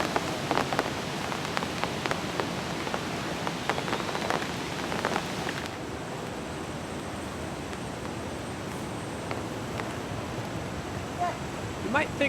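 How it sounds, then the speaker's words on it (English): Rain comes down on an outdoor disc golf course, a dense steady patter with sharper drop hits early, then a softer even hiss. "And here comes the rain."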